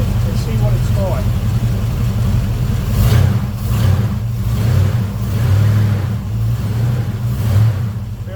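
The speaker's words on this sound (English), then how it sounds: "Now let's just give it a rev and see what it's like." A Volvo Penta 454ci boat engine, fitted with a replacement HEI distributor, idles with a steady low rumble and then swells through a couple of revs before settling, loud and close.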